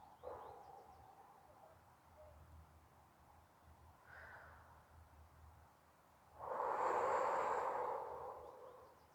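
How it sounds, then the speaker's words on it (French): A person takes a deep, slow breath in, a soft airy inhale followed by a louder, long sustained exhale, close and intimate in a quiet room. "Et à prendre une profonde inspiration."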